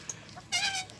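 Chickens, including a Livorno hen, cluck nearby in a brief burst around a feeder set on the ground, a sharper call rising over soft background chatter from the flock.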